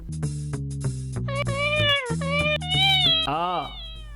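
A synthesized tune plays while a cat gives a couple of drawn-out meows over the music, close and clear.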